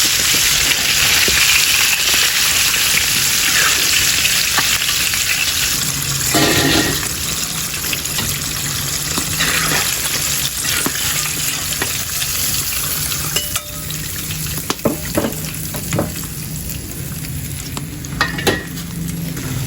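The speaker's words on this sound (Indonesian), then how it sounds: "Nah ini penggorengan yang kedua ya, dan kita mau bikin lagi ayamnya" Chicken pieces fry in a pan of hot oil, a steady loud sizzle running throughout with occasional stirring clatter and bursts of spatter; no one talks.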